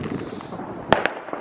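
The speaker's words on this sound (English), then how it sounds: "Cal, do you see the fireworks" Fireworks crack in two or three sharp, loud bursts close by on New Year's Eve in Berlin, rising over a low, rumbling background.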